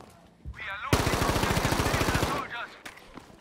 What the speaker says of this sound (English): I saw somebody shooting there.